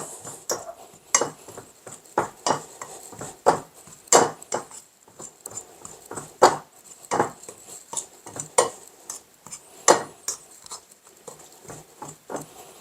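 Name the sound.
mixing scone ingredients together in a bowl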